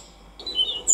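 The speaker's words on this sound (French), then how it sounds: "le merle noir a un chant musical depuis un arbre ou un bâtiment, un toit" A common blackbird sings a short musical phrase from a tree or rooftop, a clear, fairly close whistled note rising over quiet background.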